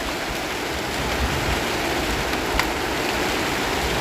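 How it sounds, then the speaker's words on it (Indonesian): Heavy rain pours steadily outdoors around a garden hut, a dense unbroken hiss of downpour with no voices. "hujan lagi, ya Allah, alangkah lebatnya"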